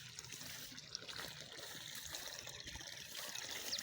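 Water pumped by a small DC motor pump, the kind used in DC air coolers, flows in a steady, faint trickling stream with an even, continuous splash and no break.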